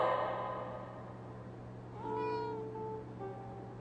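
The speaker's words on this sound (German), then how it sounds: "Ich rufe Pike an und frag, ob jemand eine Katze vermisst" A cat meows in Life is Strange: True Colors, a single clear, drawn-out meow close by, rising and falling, heard after a fading musical tone over a steady low hum.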